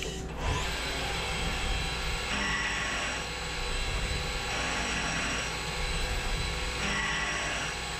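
A CNC mill-turn machine finish turns a stainless steel part without coolant, giving a steady mechanical whir and hum with faint periodic swells, continuous at moderate volume.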